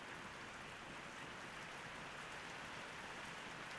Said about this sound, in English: The rain pounding against the side of the copper